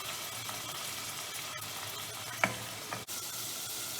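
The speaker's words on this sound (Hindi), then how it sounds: "अपना कीमा ऐड करना है इसके अंदर और इसको भून लेना है" Ground beef mince fries in a pan with an even, close sizzle and soft stirring, broken by a sharp utensil tap or two, with no voices.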